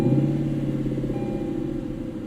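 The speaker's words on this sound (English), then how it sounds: "Nice little rev on startup" A 2018 Lexus LC 500 engine idles close by just after startup, a steady rumbling drone that eases slightly in loudness over two seconds, with no voices.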